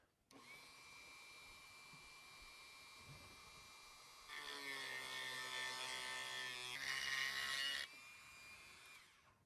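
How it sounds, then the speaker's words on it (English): Dremel rotary tool with a grinder bit carving model plastic: a steady high motor whine, which rises into a louder, grittier grinding for a few seconds as the bit bites in, then drops back before the tool shuts off. "I'm going to use a Dremel tool with a grinder bit. And this should just carve right through real easy."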